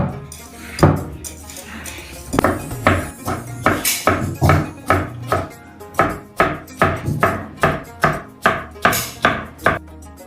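A knife chops food in brisk, even strokes close by, during iftar preparations at an expat home in Saudi Arabia. The crisp, knocking cuts build into a fast steady rhythm, with faint voices in the background.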